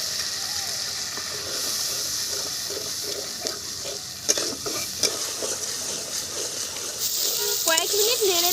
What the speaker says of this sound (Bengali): তেলের মধ্যে দিয়ে দিচ্ছি টমেটো পেস্ট।